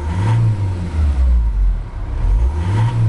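A Citroen Relay short-wheelbase van engine revs up and drops back down a couple of times, loud and close, rising and falling in pitch, before settling to idle.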